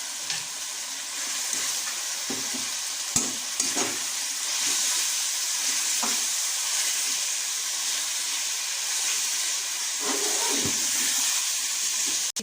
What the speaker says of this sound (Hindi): इसका कलर चेंज होने तक हम इसे भून लेते हैं